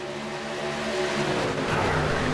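Racing trucks roar around the Atlanta track at the green flag, a dense, steady engine drone that builds slightly in loudness, with no voices.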